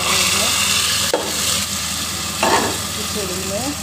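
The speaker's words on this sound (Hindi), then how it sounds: "अब मैं इसको जा रही हूँ भगाड़ लगाने, प्याज से भगाड़ लगाऊंगी।" Onion tempering for khichdi sizzles loudly and steadily in a hot pan, with a couple of brief stirring scrapes breaking through the constant frying hiss.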